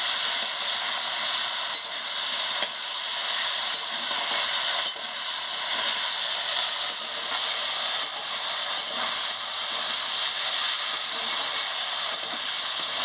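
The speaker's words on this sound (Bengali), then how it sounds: "দিয়ে ভালো করে আদা বাটাটাকে ভেজে নিচ্ছি।" Ginger paste frying in oil gives a steady, loud, continuous sizzle with a dense hiss throughout, alone and with no talk.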